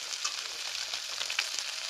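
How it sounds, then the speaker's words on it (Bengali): Nuts fry with potatoes in hot oil in a wok for chowmein, a steady bright sizzle running throughout with faint scraping, close and with no talking. "বাদামটা আলুর সাথে একটু ভাজা করে নেব।"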